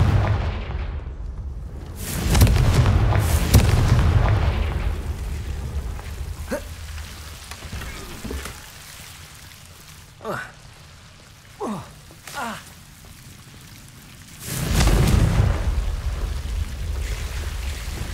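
Fiery Confringo spell blasts from Hogwarts Legacy, several booming bursts spread across the scene: a heavy rumbling explosion early, sharper cracks in the middle, and another deep boom near the end over a low ambient bed.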